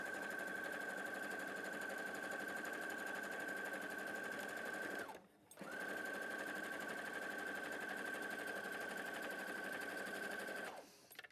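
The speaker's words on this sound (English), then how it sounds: "So we'd sew that next." A sewing machine stitches fabric pieces in a steady, fast, close mechanical whir, stopping briefly midway before running again at the same pace, then halting near the end.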